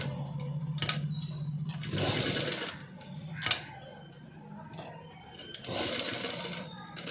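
Sewing machine running a neat double stitch along a blouse seam, its motor whirring in steady bursts with short pauses and a few sharp clicks between runs, close and fairly loud.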